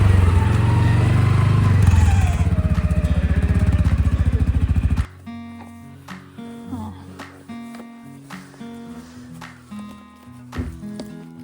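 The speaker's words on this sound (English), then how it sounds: "I think they just hear the sound of the motorbike and they know it's hay coming." A farm motorbike bringing hay runs with a loud, close, rattling engine drone for about five seconds, then cuts out; animal calls and scattered knocks follow in the quieter remainder.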